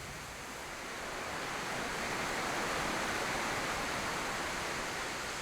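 A tall waterfall in Idaho with heavy spray roars as a steady, dense broadband rush, loud and unbroken for several seconds with no voices.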